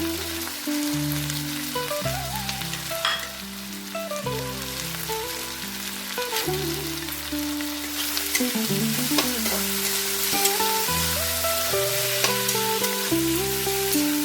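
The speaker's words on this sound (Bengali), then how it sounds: "গ্যাসের ফ্লেমটা মিডিয়াম আঁচে রেখে এটাকে ভালো করে ভেজে নিতে হবে" Cabbage with fish head fries in a pan over a medium gas flame, making a steady hissing sizzle that sits beneath prominent melodic background music throughout.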